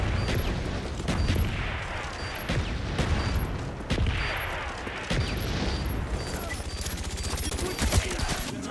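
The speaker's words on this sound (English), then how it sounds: "Enemy mortars, take cover." In a military shooter video game, mortar strikes and bursts of gunfire crackle in rapid, irregular volleys with heavy thuds and booms, sustained throughout and mixed with faint game voice chatter.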